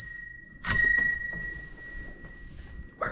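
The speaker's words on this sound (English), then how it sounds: "The bell works." An old bicycle bell at a heritage museum gives a bright ring with a clear lingering tone that decays slowly, then a second short ring near the end, close and alone with no talk.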